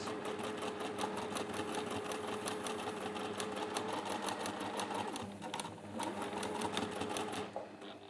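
A sewing machine runs steadily, stitching a fabric crown pincushion between marked points a quarter inch from the edge, with a brief pause and a slowdown before it resumes its rapid, even needle rhythm, close and clear.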